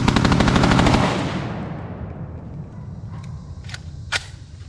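Burst of rapid AR-47 rifle fire during a hog hunt outdoors, a loud fast string of shots for about a second, then fading echoes and a few sharp clicks.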